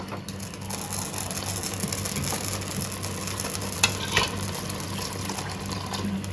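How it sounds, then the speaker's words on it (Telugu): Water poured into a pan of cooked, simmering masala for chicken curry, a continuous hissing sizzle with liquid rushing in and a couple of sharp clinks partway through. "ఇప్పుడు కావాల్సినంత ఎంత ఎసురు కావాలనో అంత నీరు పోసుకుంటాను"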